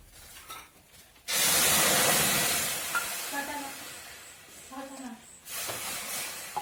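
Water poured into a hot kadai while making sweet jaggery sanjori bursts into a sudden loud hiss that holds for about four seconds and then cuts off, with faint voice sounds beneath it.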